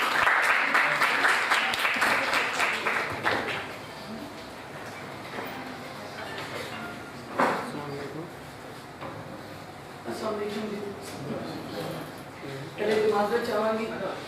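Audience applause at a stage event introducing a Punjabi performer, a burst of clapping that builds at the start and fades into a hall full of murmur and talk, with brief renewed clapping near the end.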